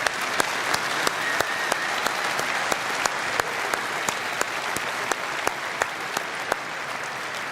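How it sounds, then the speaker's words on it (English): Steady applause from a political rally crowd in London, dense clapping with a few sharper claps standing out, continuous and fairly close. "Let's give everyone who's applied a round of applause."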